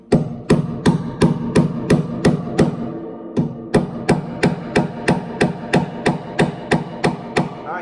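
A spinet piano tuning pin is hammered through its bushing into the wooden pin block: a steady run of about twenty sharp metallic taps, close and loud, evenly spaced with a brief pause midway, no talking.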